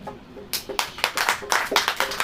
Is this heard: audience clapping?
yes